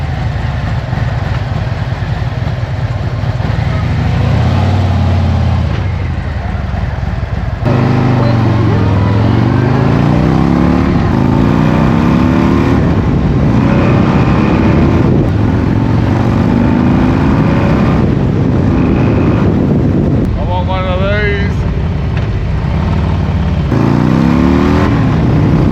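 Modified Harley-Davidson Road Glide motorcycle engine, a loud, close, throaty rumble that idles and then rises and falls through several rev sweeps, with brief blips near the end.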